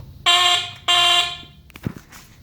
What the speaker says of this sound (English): Regarding the horn, the actual horn itself, the buzzer, is original Schwinn vintage.